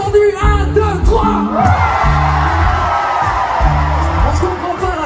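Festival crowd shouting and yelling together after a countdown at an outdoor concert, loud sustained collective roar with whoops, filling the whole clip.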